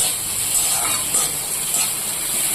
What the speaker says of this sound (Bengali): ঝমঝম করে বৃষ্টি হচ্ছে